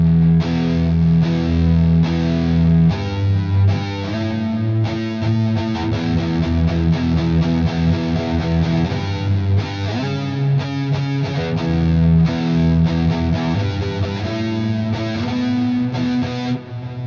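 Electric guitar played through a Harley Benton Extreme Metal distortion pedal with reverb added, giving a loud, continuous stretch of heavily distorted riffing and sustained chords with a reverberant tail, no voices.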